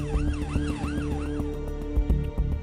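Wailing ambulance siren rising and falling in repeated sweeps, heard from a balcony in Japan, fairly loud over low rumbling traffic and a few thumps.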